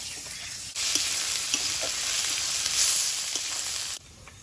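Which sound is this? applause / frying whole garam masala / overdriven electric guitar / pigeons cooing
frying whole garam masala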